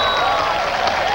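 Crowd applause at a 1991 AVP beach volleyball semi-final in Fort Lauderdale, a steady dense wash of clapping from a large audience, loud and continuous throughout.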